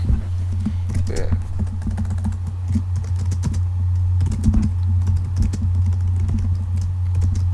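Rapid typing on the keyboard of a 15-inch PowerBook G4 laptop, a run of light, close key clicks over a steady low electrical hum, with faint talk in the background.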